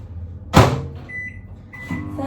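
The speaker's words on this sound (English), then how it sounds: "And a last bung in the microwave." A microwave oven heating oats, starting with a sharp door slam, followed by a low steady hum with a faint tonal whine.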